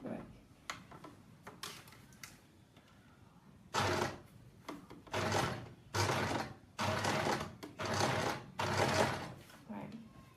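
Sewing machine stitching fabric during a beginner's lesson, running in several loud bursts of rapid whirring separated by short pauses, with quiet talk and handling noises in the gaps.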